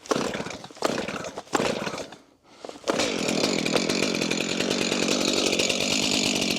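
A chainsaw with a freshly sharpened chain and fresh gas is pulled several times, sputters, then catches and idles steadily while it warms up in the cold, loud and close, with no talking.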